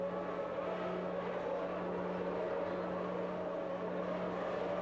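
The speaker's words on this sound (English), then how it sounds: "The engine revs rise to a harsh crescendo." Formula One cars at the start of the 1991 Brazilian Grand Prix produce a steady, dense engine roar with a sustained droning tone, held at a constant harsh level throughout rather than rising or passing by.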